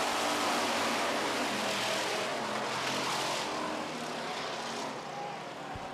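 Street stock cars racing on a track, a loud sustained roar of engines passing in a dense wash that swells and slowly fades, with an announcer's voice faintly present.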